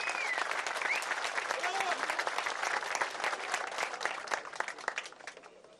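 An audience claps warmly as veteran wrestler Garip Ramazan is welcomed onto the stage at a wrestlers' welcoming ceremony in Döşemealtı, dense crowd applause fading slightly toward the end.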